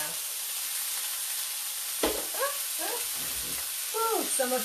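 Onions browning in a hot pan with the heat being turned off, giving a steady soft sizzle with a few stirring scrapes and clinks, close and alone without talk.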